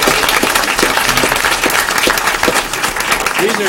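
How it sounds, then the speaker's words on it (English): Applause from the audience at an Osceola School District board meeting, a steady dense patter of clapping that lasts the whole time, with voices mixed in underneath. "Give her a big round of applause."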